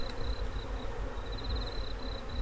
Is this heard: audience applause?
no